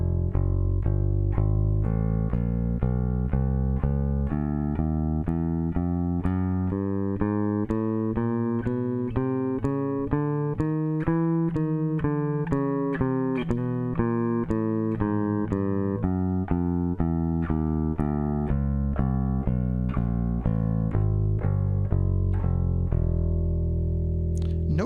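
An electric bass runs a smooth, connected shifting scale exercise at a steady brisk tempo, each note flowing into the next without audible breaks, sustained and close for the whole stretch.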